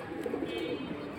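Pigeons for sale at a pigeon market give a brief low cooing murmur, close by and moderately loud, with no other sounds over it.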